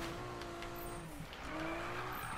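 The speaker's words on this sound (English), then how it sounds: "One more drift." Tires squeal steadily as a car drifts in the racing game Need for Speed, a sustained screech over engine drone that dips briefly, then rises again, moderately loud with no talk.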